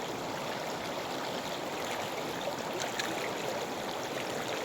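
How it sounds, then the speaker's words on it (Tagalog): The Busigon river flows steadily, a continuous close rush of stream water with constant broadband churning and no voices. "Ito ang Ilog Busigon."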